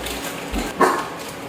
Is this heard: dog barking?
yes